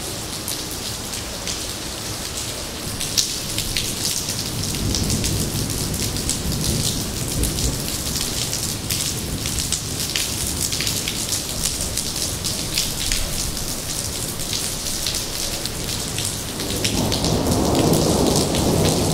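Heavy rain pours steadily on surfaces through a thunderstorm, with rolling thunder rumbling underneath and swelling louder near the end; no voices.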